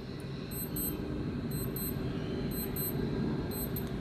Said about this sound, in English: the alarm, let me just let you hear it.